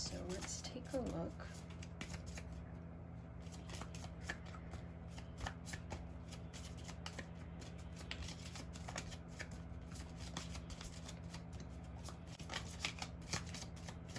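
Tarot cards being shuffled by hand in a steady, continuous riffle of papery flicks, close and fairly loud, running throughout over a low steady room hum.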